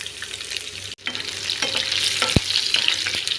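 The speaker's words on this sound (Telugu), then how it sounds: "ఇవన్నీ కొంచెం ఫ్రై అవ్వాలండి" Ridge gourd pieces fry in oil with lentils, cumin and chillies, sizzling loudly and close while a spatula scrapes and stirs the pan at irregular intervals, with one sharp knock partway through.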